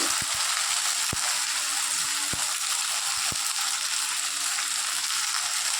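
A pan of ginger, cumin, tomato and coriander masala with salt for vegetable khichuri sizzles steadily while a spatula stirs it, giving a few sharp taps and scrapes early on. No one speaks.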